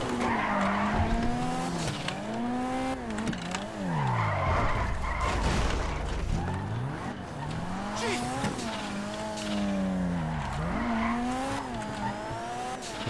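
An armored Kuruma car in GTA 5 Online driving hard, its engine whining and rising and falling in pitch as tires squeal and skid repeatedly, loud and close throughout with no talking.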